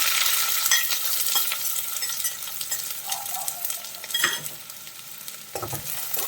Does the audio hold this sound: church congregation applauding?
no